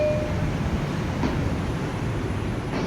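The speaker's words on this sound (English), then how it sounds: "This is a Manhattan-bound 4 express train." A Manhattan-bound 4 express train, an R142 car on the New York City subway, rumbles steadily from on board, a loud continuous roar of wheels and motors with faint brief squeals.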